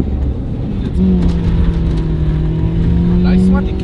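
A car engine drones steadily while driving to warm up, with tires packed with dry ice, holding a low, even pitch that rises slightly, loud and close with voices talking over it.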